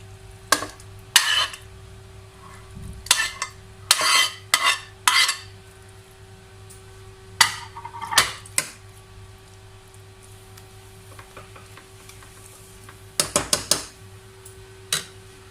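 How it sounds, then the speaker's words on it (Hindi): Chicken pieces go into a pot of layered chicken biryani, heard as bursts of close metal-on-metal scraping and spoon clinks in clusters, separated by quiet pauses over a steady low hum, with no talking. "इसके बाद जो हमारा बाकी का चिकन है वो डालेंगे।"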